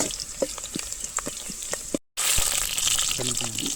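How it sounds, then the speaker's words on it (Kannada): Water poured into a hot pan of onions frying in sunflower oil for a fish curry, a steady hiss and gush with crackling bubbles and a short cut partway, close up, with voices in the background. "ನೀರನ್ನು ಹಾಕ್ತಿದ್ದಾರೆ"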